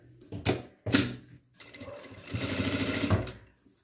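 A sewing machine stitches sweatshirt fleece, two short bursts of fast mechanical clatter followed by a longer steady run of stitching, close and moderately loud.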